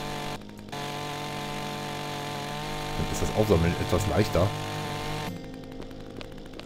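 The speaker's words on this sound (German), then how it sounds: "Jetzt fangen wir erstmal an dieser Seite an zu sägen." Chainsaw cutting wood in the video game ECO, a buzzing saw burst lasting a couple of seconds in the middle, set against a steady game hum, with someone speaking German briefly at the end.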